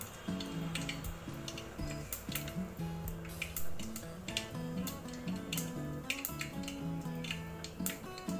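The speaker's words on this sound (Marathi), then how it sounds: "तर मोहरी चांगली तडतडली." Mustard seeds crackle and pop in two ladles of hot oil, tempering for a home-style drumstick amti, giving a steady run of sharp, close ticks over continuous background music.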